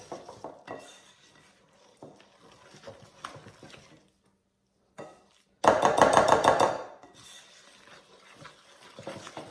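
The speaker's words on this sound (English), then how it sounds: "then we're going to add the dry ingredients. Slowly into this. And just mix until it's combined." Batter being mixed in a bowl as dry ingredients are worked in, with clattering utensil scrapes and knocks against the dish, a brief pause, then a louder burst of vigorous clinking and stirring; no one speaks.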